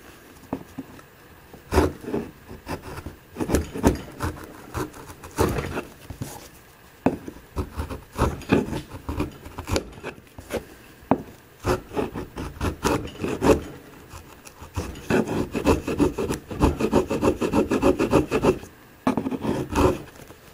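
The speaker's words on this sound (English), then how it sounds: "I'm going to hold my chisel at an angle against the curbstone, and I'm just going to slowly remove an angled section from in front of the curbstones." A hand chisel slowly shaves an angled gutter into cork in front of curbstones, a close, dry, irregular run of scraping and rasping strokes that continues throughout with short pauses and grows busier toward the end.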